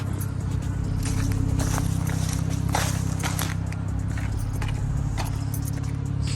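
A car key is handled and jangles on its ring in bursts of light metallic rattling near an idling car, whose low steady engine hum sits underneath throughout.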